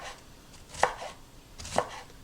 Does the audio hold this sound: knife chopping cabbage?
yes